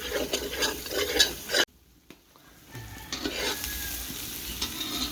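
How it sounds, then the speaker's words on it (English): Masala with tomato paste being stirred in a cooking pot, a steady sizzle with scraping stirring sounds that pause briefly midway and then resume, close and fairly loud. "And we cook it up, we mix it up a little."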